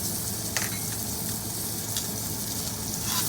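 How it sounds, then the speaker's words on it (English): A ribeye steak sears fat-side down in a hot pan, giving a steady, close, loud sizzle with small pops and spatters throughout. "on the fat side, I kind of like to give it a sear to render the fat or cook the fat a little bit more"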